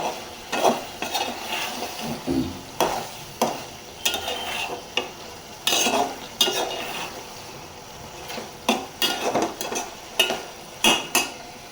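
Spoon scraping and clinking against a pot while fish curry cooks, irregular stirring strokes and metallic knocks at close range over a faint simmer, with no talking.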